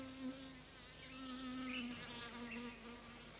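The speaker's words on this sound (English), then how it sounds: "our worker, now a fully fledged field bee, will gather supplies 4 or 5 times a day" A field bee buzzes among flowers, including a pumpkin flower, with a steady, close insect drone that wavers slightly in pitch, alone and unbroken for a few seconds.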